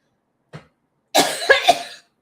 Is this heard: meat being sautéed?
no